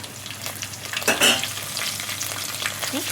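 Chopped green chillies and curry leaves fry in hot oil, a close, steady sizzling crackle with a louder burst of spitting as the leaves hit the pan, then settling into continuous frying.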